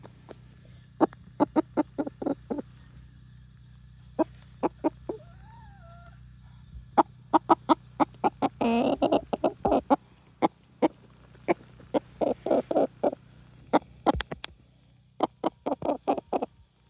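Chickens on a Central Texas homestead cluck near the coop in sharp repeated bursts, close and fairly loud, with brief pauses between runs of calls and a short squawk partway through.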